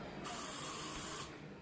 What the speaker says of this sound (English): Lysol spray.